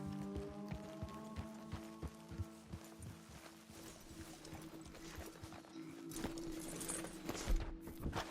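Horse hooves in Red Dead Redemption clip-clop in a quick, uneven rhythm on hard ground, several horses moving close by over a steady low hum.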